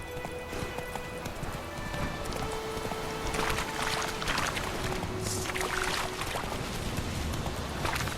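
A horse's hooves clip-clop in The Witcher 3 video game, a rapid rhythmic patter over a soft ambient background with light splashing or rustling bursts, no talking.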